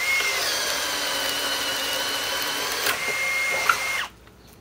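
A Menards Master Force Boost hammer drill rated at 800 inch-pounds runs steadily at speed one, giving a loud, even motor whine close by, then cuts off abruptly near the end.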